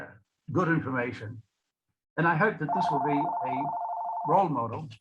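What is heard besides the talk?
telephone ringing during a talk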